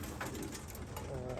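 Racing pigeons, including a blue bar hen, coo softly in a loft, with low murmuring calls and faint mechanical clicks running steadily under nearby talk.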